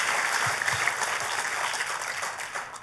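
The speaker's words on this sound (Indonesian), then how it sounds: "Ayo kita kasih tepuk tangan yang paling meriah buat Tuhan kita." A church congregation applauds warmly during a sermon, a steady, dense wash of clapping that holds evenly for about three seconds with no talking over it.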